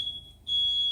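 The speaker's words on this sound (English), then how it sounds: "That's the sound of the smoke alarm protecting you from harm." A smoke alarm sounds a piercing high-pitched electronic beep, cut by a brief pause and then resuming steadily, clear and fairly close.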